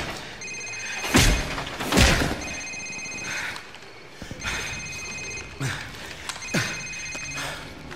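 A mobile phone rings in a Call of Duty Modern Warfare game scene: repeated electronic trill bursts in a steady rhythm, interrupted by heavy thumps and low booms.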